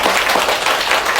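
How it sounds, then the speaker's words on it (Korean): An audience breaks into brief applause during a Buddhist dharma talk, a dense burst of many hands clapping together that stays loud and close for its whole short length. "박수."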